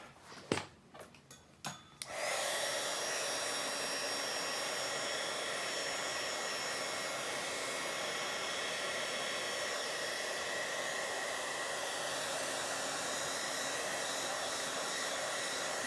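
Hair dryer blowing steadily and loudly to dry decorated paper envelopes at a craft table, starting after about two seconds of light handling taps and continuing unbroken to the end.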